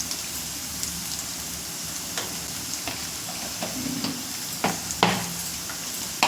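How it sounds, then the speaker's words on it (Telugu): Food fries on a low flame in a pan, with a steady soft sizzle throughout and occasional scraping strokes of a spoon as it is stirred. "సిమ్లో పెట్టి బాగా ఫ్రై చేసుకోవాలి"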